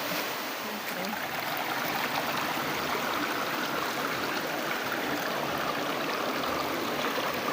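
Clear water of a stream flows near Biak-na-Bato, giving a constant, even rushing hiss at moderate level that holds steady throughout.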